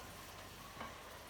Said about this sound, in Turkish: Bunları bir güzel böyle karıştırıyoruz.